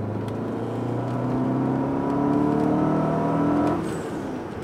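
A Fiat Coupé 16v Turbo, engine warmed up, accelerates at full throttle, its engine note climbing steadily and loud before easing off near the end, heard alone without talk.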